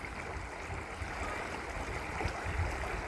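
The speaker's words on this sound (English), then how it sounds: "Does water help you to relax? Hearing water like this?" Water flows at a lake with a constant broadband rush, steady and fairly close, with no pauses or voices.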